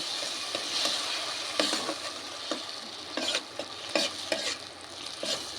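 A spoon stirs a moist spice masala in a pan for a bhindi and potato curry. A soft sizzle runs underneath while intermittent scraping strokes knock against the pan in an irregular rhythm, and no one speaks.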